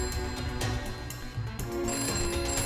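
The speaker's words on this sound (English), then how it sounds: "but the phone rang again" A telephone rings with repeated electronic trilling bursts, fairly loud and close, with no voices.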